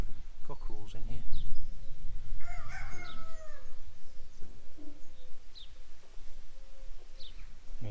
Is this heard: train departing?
no